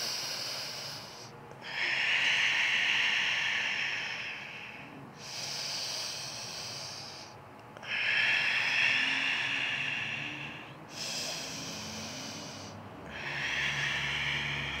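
Slow, forceful breaths pushed out through the mouth during a yoga pose, each a broad airy rush lasting a couple of seconds and returning at a steady, unhurried rhythm, close and clear with no talking.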